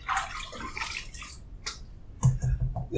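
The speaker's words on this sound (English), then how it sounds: "I'm going to wet the face here a little bit" Water splashes and drips as it is scooped and patted onto a face before a shave, a soft irregular wet sound with a louder splash near the end.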